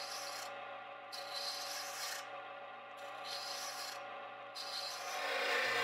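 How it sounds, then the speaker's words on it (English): A spindle gouge cuts a slight round-over on a wooden mallet head spinning on a lathe, a close, continuous scraping rasp that swells and eases in repeated passes, with no talking. "I then move on to the head of the mallet and do a little slight round over at the very top, again, using what I do believe is the spindle gouge."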